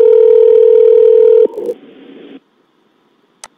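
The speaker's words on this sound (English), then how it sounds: "Let's play a phone call." Telephone tones from a call being placed: a loud steady dial tone, then a short burst of dialing sounds and a brief connection noise before falling quiet.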